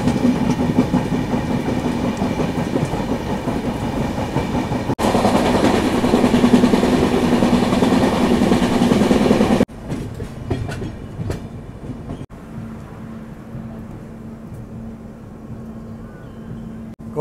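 The 15722 Pahariya Express from Darjeeling to Digha rolls along with a steady, loud rumble and rhythmic wheel clatter, then the noise drops to a quieter hum with a faint steady tone and scattered clicks.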